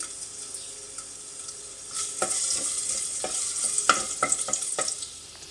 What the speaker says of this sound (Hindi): इस लहसुन को मैं फ्राई करूँगी।